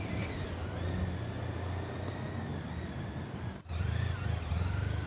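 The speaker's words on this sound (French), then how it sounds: "À moto, nous suivons son véhicule." Steady engine drone from a motorcycle riding behind a car leaving a courthouse, continuous road rumble with a brief dropout before the engine noise resumes louder.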